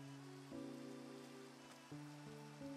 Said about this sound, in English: If it wasn't raining so much